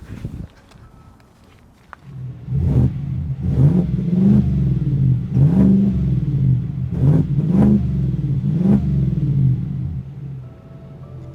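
A shop pickup truck fitted with a Magnaflow cat-back exhaust and Corsa intake revs repeatedly: a low idle rumble rises into a series of loud, throaty blips that spike and fall back, with no talking.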